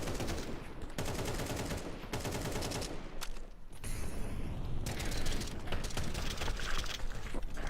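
Rapid bursts of gunfire crackle through a Counter-Strike match, with dense automatic fire and mechanical clatter in steady volleys and brief pauses, loud and continuous with no talk.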